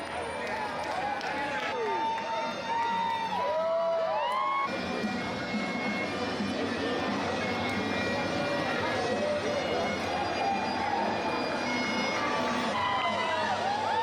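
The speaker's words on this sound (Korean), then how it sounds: "수많은 사람이 강에 늘어서 환호하며 녹색으로 물드는 강을 지켜본다." A crowd lining the River Walk in Texas cheers during a festival as the river is dyed green. Clapping and cheering fill the scene with steady, close noise, overlaid by bright whistle-like chirps and a narrator talking.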